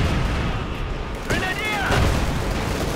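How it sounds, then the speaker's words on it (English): Anti-tank gun fire in a Company of Heroes 2 battle: a sharp boom lands about midway over a dense, steady din of combat noise. "Field gun coming under fire from a pack."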